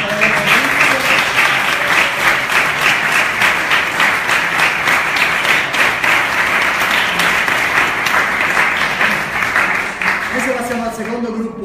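A crowd applauds steadily for several seconds, dense clapping from many hands that thins slightly toward the end.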